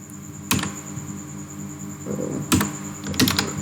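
Keystrokes on a computer keyboard while entering Bangla text into a web page, a few sharp isolated clicks spaced over a quiet background hum, close and fairly soft.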